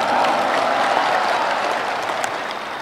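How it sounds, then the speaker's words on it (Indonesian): Dense, steady applause from a large crowd at a NasDem party rally, loud and continuous throughout, easing off slightly toward the end. "Kita berikan tepuk tangan untuk itu."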